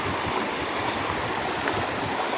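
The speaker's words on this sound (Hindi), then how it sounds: "देख सकते हैं आप कितनी तेज़ी से इसमें जल बह रहा है" The fast-flowing Ganges rushes steadily nearby, a dense, continuous roar of churning water with no pauses, where the river splits into several streams.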